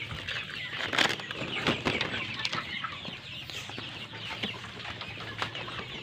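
KUB chickens in a farm pen cluck and flap their wings in short bursts as a person tries to catch them, fairly close, with sharp wing-beat flurries early on and softer clucking and scuffling afterward.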